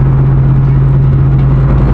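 A BMW E36 pro drift car cruises in sixth gear with a steady, loud engine drone and a strong low hum, holding an even rumble throughout.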